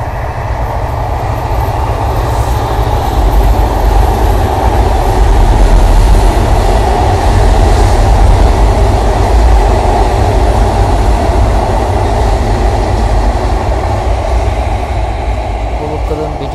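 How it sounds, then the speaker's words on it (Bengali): Madhumati Express from Rajshahi passing through Keraniganj railway station: a loud, continuous rumble of rail cars rolling by up close, steady for the whole stretch with a deep low roar and broad hiss. "এখানে একটি ট্রেন যাচ্ছে এই রেল স্টেশনের উপর দিয়ে। এই ট্রেনটি হচ্ছে রাজশাহী থেকে ছেড়ে আসা মধুমতি এক্সপ্রেস।"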